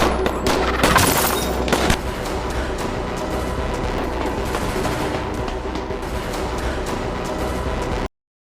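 Gunfire from a group hidden on a rooftop shooting at soldiers outside a supermarket: a loud burst of shots at the start, then a steady rumbling din of battle that cuts off abruptly.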